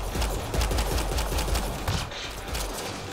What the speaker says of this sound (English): It's actually still getting shot at.